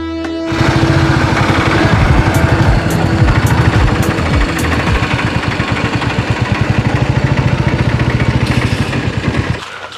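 A motorcycle engine runs close by with a loud, steady, pulsing rumble that starts abruptly and holds for about nine seconds before cutting off, with some faint higher ticking early on.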